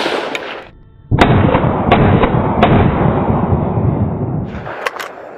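A rifle fires in a function test at an outdoor shooting range, a loud close shot followed by a long booming echo that rolls on for several seconds, with a few sharp snaps on either side.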